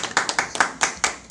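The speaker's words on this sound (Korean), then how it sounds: "박수." A handful of sharp, distinct hand claps in an irregular quick rhythm, close and fairly loud, at a civil service exam prep academy gathering.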